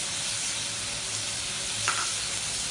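Beans and carrots sauté in a pan, a loud continuous close sizzle with a brief stir or scrape partway through and no talking.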